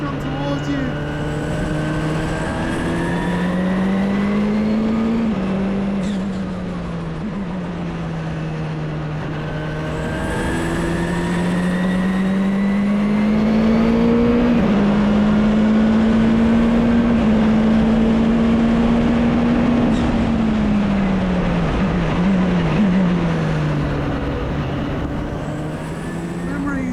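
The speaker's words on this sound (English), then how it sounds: "Just pulling through the gears on the Mulsander straight." A Courage C65 LMP2 prototype race car pulls through its gears on the Mulsanne straight at Le Mans, the engine's loud, close howl climbing and dropping in pitch with each upshift over a steady rushing roar.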